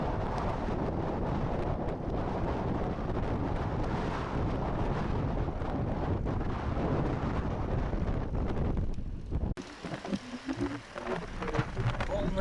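Strong wind blowing across an open plain under an approaching storm cloud, a steady loud broadband roar buffeting the microphone throughout, then dropping abruptly to quieter gusts near the end.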